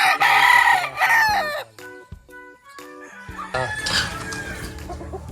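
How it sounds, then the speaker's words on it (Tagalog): Gamefowl roosters, cocks and bullstags, crow loudly and repeatedly at close range, with clucking between calls and other birds crowing farther off. "yan mga cock and bullstag na ang mga alaga ni Tatay Pepe."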